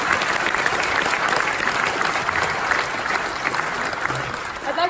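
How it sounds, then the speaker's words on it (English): Graduation audience at a Kingston University ceremony applauding after a vote of thanks, a dense, steady roar of many hands clapping that holds for several seconds and fades slightly at the end. "I'd like you to join me in giving them a round of applause to say thank you"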